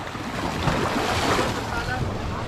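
A motorboat out on the water, heard as a constant broadband roar of engine and rushing water heavily mixed with wind buffeting the microphone, loud and unbroken throughout.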